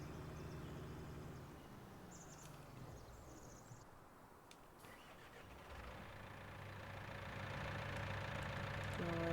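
A John Deere tractor engine idles steadily in Farming Simulator 19, a low continuous rumble with a constant tone throughout, growing slightly louder toward the end.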